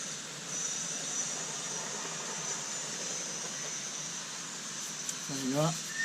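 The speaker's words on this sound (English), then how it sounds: "it just starts to spit a bit, and then it starts spraying out the sides of the jet, the filling jet" The gas tank of a Roundhouse Silver Lady live steam model locomotive is filled, with a steady close hiss and a brief sputtering spit from the filling jet near the end.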